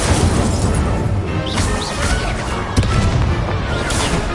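Incendio fire spell cast in Hogwarts Legacy on PS4, a loud, dense burst of roaring flame and crackling impacts that fills the whole moment, with a sharper crack partway through.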